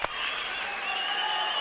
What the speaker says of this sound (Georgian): ყველა დასუკრავს!